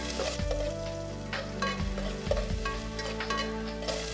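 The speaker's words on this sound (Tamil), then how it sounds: "வெட்டி வச்சிருக்க வெங்காயத்தை சேர்த்துக்கோங்க." Chopped onions hitting hot oil tempered with cumin seeds and a bay leaf, sizzling and frying steadily with a few stirring clatters, close and fairly loud, no voices.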